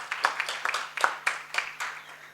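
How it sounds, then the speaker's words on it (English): Sparse, fairly quiet clapping from a workshop audience in Jamaica, honouring the Caribbean Development Bank, with roughly eight distinct claps spaced across about two seconds over a steady low hum. "Let us give CDB a resounding round of applause"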